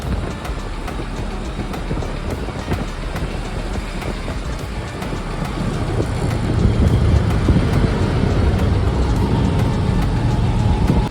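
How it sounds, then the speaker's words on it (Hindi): A motorbike rides through a mountain tunnel in Sikkim, its engine a continuous rumbling roar with echoing reverberation that grows louder and deeper midway, with no talking. "लेकिन इस टनल में आवाज़ गूंजती है"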